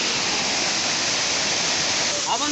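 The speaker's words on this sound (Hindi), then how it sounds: "झरना केनते होची।" The Polka Guda waterfall in Malkangiri, Odisha, rushes with a loud, steady roar of falling water heard up close. A brief voice surfaces faintly at the very end.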